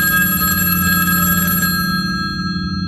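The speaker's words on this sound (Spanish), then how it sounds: "Una semana después, la madre de Scott, Vera, recibió la primera llamada." An old-style telephone bell rings loud and steady, a continuous metallic jangle filling the whole stretch before easing slightly near the end, with no talk.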